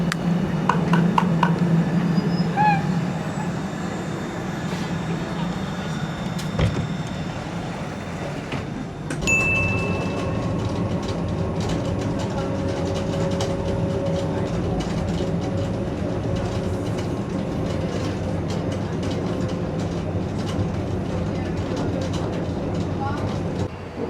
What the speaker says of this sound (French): Première fois de ma vie que je prends un tram sur pneu